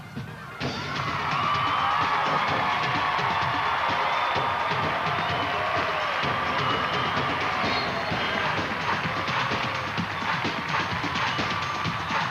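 A pageant crowd of supporters from a small town cheers, whoops and shouts continuously in a large hall, a loud sustained roar of many voices with scattered claps and screams.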